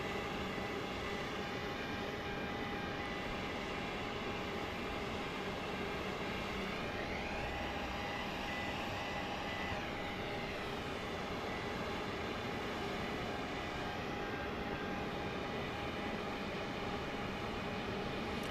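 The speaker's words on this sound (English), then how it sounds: "It's a 737-700. Coming in on the east side here on runway 31 right." A Boeing 737-700 on approach to land at night, a steady broadband jet roar that holds level throughout with a faint whine and a slow sweep in the middle, distant and continuous, with no voices.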